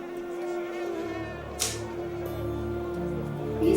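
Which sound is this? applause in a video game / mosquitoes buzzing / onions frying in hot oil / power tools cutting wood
mosquitoes buzzing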